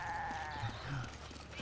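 A goat in the video game Resident Evil 5 gives a drawn-out wavering bleat, moderately loud over a steady game background hum.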